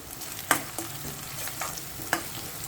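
Soft, steady sizzling of onions frying in a pan, with a few sharp clinks of a utensil stirring and scraping, no talking.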